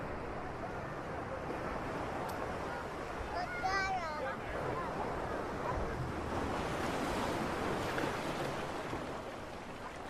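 Mediterranean sea waves wash steadily against a rocky shore, a continuous broadband surf roar with wind noise throughout and faint distant voices in the background.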